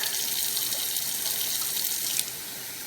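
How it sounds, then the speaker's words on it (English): Tap water running into a container of gelatin for a homemade gel plate, a steady bright rushing flow that drops off abruptly near the end. "So then we're going to do 3 cups of water in here."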